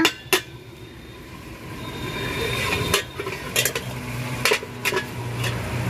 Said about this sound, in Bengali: তো এই যে সবে কষানো শুরু হলো